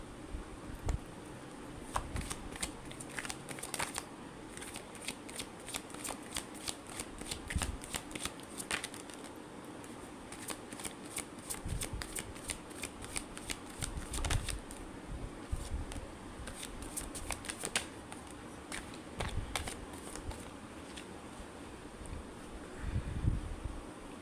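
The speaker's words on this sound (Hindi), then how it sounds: "जब मैं कार्ड शफल करूँ" Tarot cards being shuffled close to the mic, with repeated crisp riffling bursts and flutters throughout, over a steady low background hum, with no talking.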